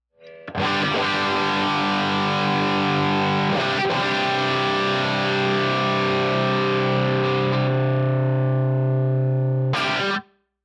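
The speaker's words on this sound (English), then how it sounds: "in the middle, we still have the classic Les Paul mix of the 2 pickups together" Overdriven electric guitar in the blended middle pickup setting of a Les Paul-style two-pickup guitar with JC Custom pickups, a sustained ringing chord with a brief restrike, held for several seconds before cutting off.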